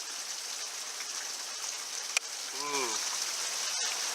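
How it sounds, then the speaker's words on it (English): Steady rain falls and patters outside a body shop during Honda Accord body work, a constant soft hiss throughout, with a brief exclamation from someone partway through. "So waiting for this rain"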